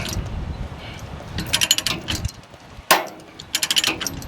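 A chain binder ratchets tight on a load chain securing freight on a flatbed truck, giving two bursts of rapid metallic clicks split by a sharp clank, close and fairly loud.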